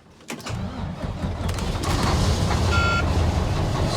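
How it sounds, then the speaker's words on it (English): A truck engine left unplugged in the cold cranks briefly, then catches and settles into a loud, steady idle that grows fuller, with a short electronic beep partway through. "So I'm gonna try and get these trucks to fire up."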